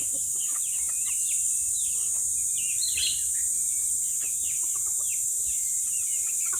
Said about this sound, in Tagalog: Hindi sa amin manok yan guys, iba ang may-ari niyan.